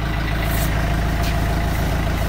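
A freshly reassembled Renault Kangoo 1.5 dCi K9K diesel engine runs at idle, a loud, steady low rumble with an even throb and no voices.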